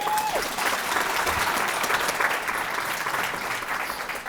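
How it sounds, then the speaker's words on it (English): An audience at a scholarship presentation claps steadily, with loud, dense applause filling the whole stretch and a brief tone at the start. "I think we should all give Ms. Newman another round of applause"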